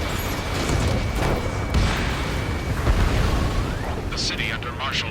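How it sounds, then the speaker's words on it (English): Explosions and gunfire from Ace Combat 7 rumble through a city under attack, with booming blasts and sharp bursts layered beneath a voice, joined near the end by a rising jet-like whine. "Gunfire and the roar of jets echoing through the streets."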